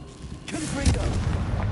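A Confringo fire spell explodes in the video game Hogwarts Legacy, a deep booming blast that hits about a second in and rumbles on under game noise.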